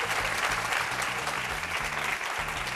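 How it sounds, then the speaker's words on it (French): Loud, dense applause from an audience, continuous clapping over a low rhythmic background hum. "Public, applaudissez-vous."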